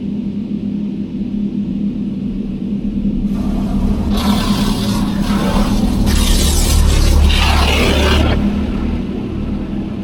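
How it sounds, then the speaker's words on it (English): An automatic car wash runs over a stored car, heard from inside as a steady low rumble, then loud hissing sprays and swishing brush bursts that build and fade, with no talking. "I'm probably not the first person to run this car through a car wash"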